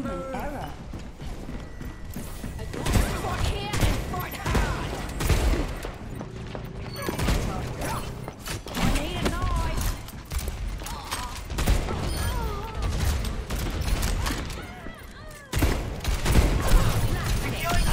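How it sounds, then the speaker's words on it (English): An enemy turret fires in a video game, a rapid series of clattering gunshot bursts mixed with mechanical clanks, loud and irregular, with other game sounds around it. "Enemy turret ahead"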